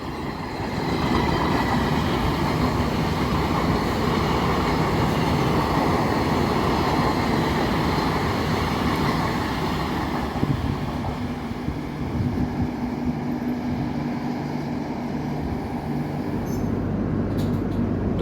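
Goa Express passenger train crossing and a train departing, a broad steady rumble of rolling wheels and wagons continuing for the whole stretch, moderately loud with no voices.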